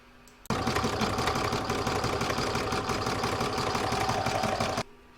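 An embroidery sewing machine stitches an outline, starting abruptly and running for about four seconds with a fast, even mechanical clatter. It stops just as suddenly, and no voices are heard.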